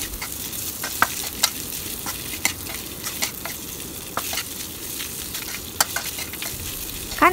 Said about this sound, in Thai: ตอนนี้ก็ใส่หมูยอลงไปค่ะแล้วก็ทำการผัดต่อค่ะ